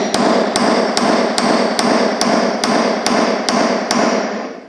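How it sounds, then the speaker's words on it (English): A hammer strikes hard steel about ten times in an even, steady rhythm, each blow a loud, close, ringing metallic clank over a constant workshop hum, during work on a grinder part. "I'll get a hammer."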